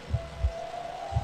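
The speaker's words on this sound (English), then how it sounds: "I can hear the heartbeat." Heartbeat sound effect from the horror video game Infliction: three deep, low thumps spaced unevenly over a steady faint tonal hum, with no talk.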